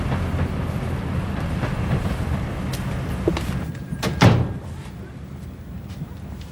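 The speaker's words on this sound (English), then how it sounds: "I just shut the door" A house door shuts with a single firm thud late in the moment, after a low background rumble and some faint voices.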